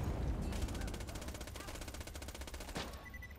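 Rapid automatic gunfire from a weapon in the video game Borderlands 2, a dense rattling burst of shots fired close and loud, continuing almost without a break.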